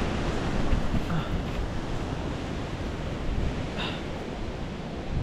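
A stream flows beside a campsite in Patagonia, a steady broadband rushing wash of water heard close and continuous, with no voices.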